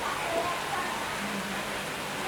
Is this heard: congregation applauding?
no